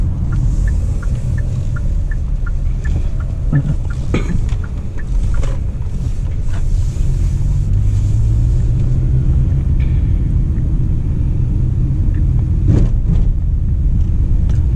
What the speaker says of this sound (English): So now I'm driving the car on regular normal mode.